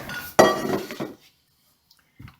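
Kitchen bowls and a pan handled to start a chicken broth, one sharp ringing clink followed by a softer knock, then near silence with a faint final tap.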